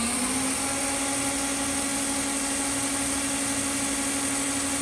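The ID spindle of a Myford MG-12HA hydraulic cylindrical grinder running: a steady, loud mechanical whine that rises briefly in pitch at the start, then holds constant over a broad motor hiss.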